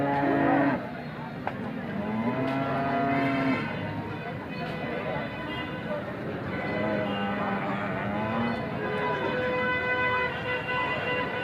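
Cows moo at a cattle market in Alephata, Maharashtra, several long, low calls rising and falling at intervals, close by, over a steady murmur of market noise.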